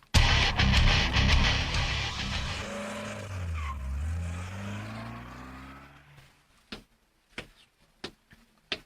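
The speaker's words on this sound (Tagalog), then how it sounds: "Kinsa tong may pasirit og padagan sa jeep ni Madam?" A jeep speeds off with a roaring engine and squealing tires, its pitch falling as it pulls away and fades into the distance, followed by a few sharp knocks.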